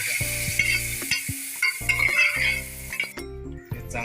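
Cooked mango stirred into garlic, mustard seeds and hing sizzling in a pan on low heat, with rhythmic scraping strokes, light clinks and a hiss that drops out near the end.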